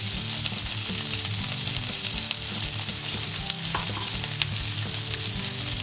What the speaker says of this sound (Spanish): saltear por separado todos los ingredientes, el tofu, los guisantes, la zanahoria y el arroz